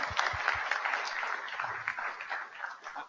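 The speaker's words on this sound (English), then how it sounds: "So let's have a round of applause again for the group and the speakers." A symposium audience applauding for the speakers, with steady, moderately distant clapping that thins slightly toward the end.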